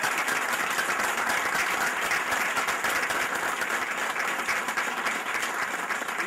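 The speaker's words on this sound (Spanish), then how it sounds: "Primero le quiero darle un aplauso porque el equipo Atlético Pilar salió campeón." Applause at a celebratory dinner for the Atlético Pilar champion football team, dense, even clapping from a room of diners sustained for several seconds at a steady level.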